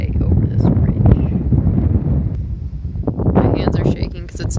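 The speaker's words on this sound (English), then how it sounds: "it's cold out and it's so windy" Strong, cold wind gusts across a hillside near oil fields as a wildfire spreads over a ridge, a loud continuous buffeting rumble with bursts of microphone wind noise and brief rustling, and a person speaking intermittently under it.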